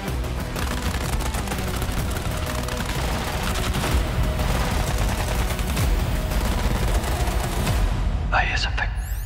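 Video game gunfire during a tactical operation against a terrorist group, rapid machine-gun bursts and volleys that stay loud and continuous, with speech heard during the shooting.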